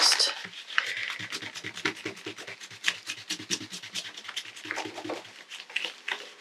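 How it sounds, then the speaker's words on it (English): Close, rapid rubbing and scratching strokes as a paper envelope flap is distressed for an altered journal craft, a steady run of short scuffs with brief pauses. "I have to distress this flap as well."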